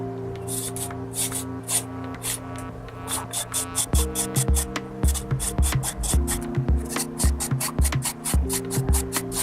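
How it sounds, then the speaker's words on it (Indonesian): Cabbage is rubbed over a cheese grater in quick, even rasping strokes. The strokes come fast and close, loud scratches repeating steadily over a low background hum. "Jadi saya parut pakai parutan keju."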